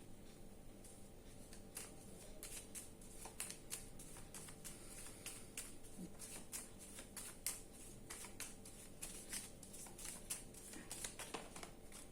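Angel oracle cards being shuffled by hand, a soft run of crisp papery riffles and flicks repeating steadily and close for the whole stretch, with no voices.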